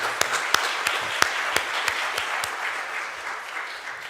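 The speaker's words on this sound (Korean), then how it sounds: "박수로 환영하면 되겠습니다." A church congregation at a Sunday worship service applauds to welcome a visiting pastor, steady, dense clapping with a few sharper claps standing out near the start, fairly close and with little talk.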